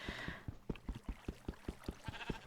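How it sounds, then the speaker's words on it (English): A sheep in the video game Minecraft bleats in quick repeated pulses, a rhythmic run of short, fairly soft cries at close range with no talking. "I hear this sheep right there"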